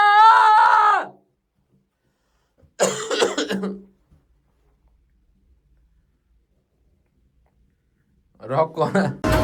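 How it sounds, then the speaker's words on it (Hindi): A man yells hard into a decibel meter game in three loud bursts separated by silences, the first a sustained scream, the later ones ragged and rough. "जेट इंजन जैसे मैं चिल्लाता हूँ।"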